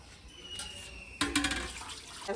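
Water pours into a pot of washed rice and lentils for khichuri, a soft splashing stream that swells into a louder gush midway through the short, quiet pour, with no talking.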